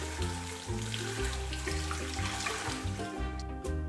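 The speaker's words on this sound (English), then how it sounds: "Rinse the rice the easy way, straight into a sieve, add water and stir it with a whisk." Rice is rinsed in a sieve, water poured over it and stirred with a whisk, making a continuous close splashing, trickling flow with rhythmic swishes and no voices.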